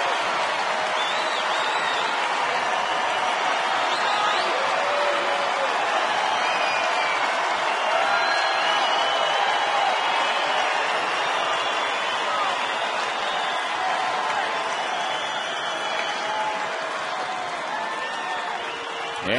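Crowd of more than 24,000 at a Tigers–Royals night baseball game in Detroit roaring and cheering steadily, a dense sustained wall of noise with faint voices mixed in.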